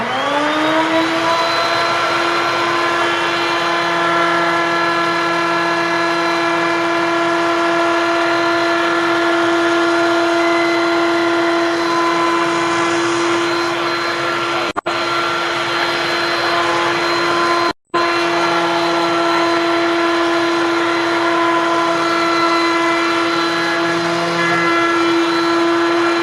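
A woodworking machine runs steadily while shaping the edge of a wooden cutting board, a loud continuous motorized whine with strong harmonics throughout, briefly cut off twice near the end.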